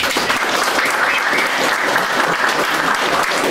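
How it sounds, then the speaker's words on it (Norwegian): A concert audience at Nordal Turistheim applauds a guitarist, a dense, steady wash of many hands clapping at full loudness throughout, with no gaps. "Stor applaus til han."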